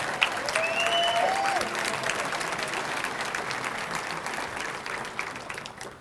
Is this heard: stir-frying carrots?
no